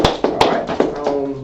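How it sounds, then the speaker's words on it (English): A congregation at a Sabbath service claps in a few loud, sharp, uneven bursts close by, the hand strikes ringing briefly in the room. "So let's clap that up."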